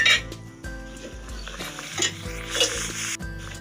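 Chicken singaras sizzle in hot oil, with bursts of crackling and hissing and occasional clinks of a metal utensil against the pan, heard up close with no voices.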